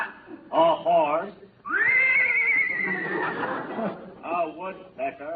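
A voice imitates a horse's neigh, a long wavering whinny, between short bursts of close speech on a 1948 radio comedy show.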